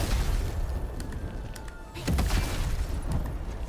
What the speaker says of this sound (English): Does the explosion not wrap to go downwards?